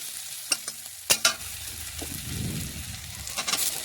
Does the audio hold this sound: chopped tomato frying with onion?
yes